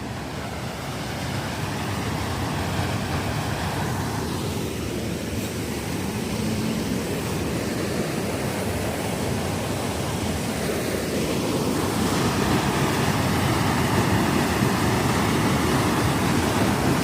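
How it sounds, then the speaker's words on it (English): Continuous rushing water of Kennedy Creek in California's Emigrant Wilderness fills the scene, a broad steady roar of flowing stream with no voices, slightly swelling toward the end. "This is Kennedy Creek."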